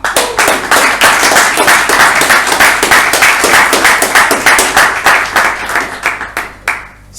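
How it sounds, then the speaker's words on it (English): A crowd applauding steadily at a Toastmasters meeting in Bangalore, dense and loud, fading out toward the end. "let's give a round of applause to Toastmaster Alan Arhana."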